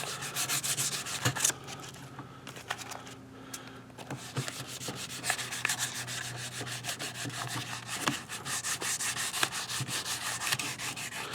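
A 400 grit sanding rod rubs steadily around the inside of a carved wax ring, giving a close, continuous scratchy rasp with short pauses and regular strokes, no talking.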